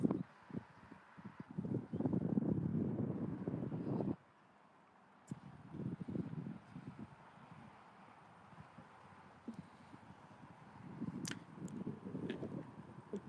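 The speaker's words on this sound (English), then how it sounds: "It'd be so much better right now if the wind wasn't blowing." Gusty wind at a cold, wet beach buffets the microphone in loud, uneven rumbling bursts, briefly dropping to near calm before picking up again with further blustery swells.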